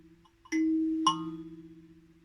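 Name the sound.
instrument imitating a doorbell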